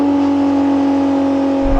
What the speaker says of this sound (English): I'm just playing the engine like a musical instrument.